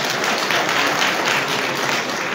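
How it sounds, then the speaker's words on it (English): A crowd at a youth empowerment programme event addressed by President Boakai claps for a named attendee. The dense, even applause runs the full couple of seconds without pause. "Please clap for Emmanuel."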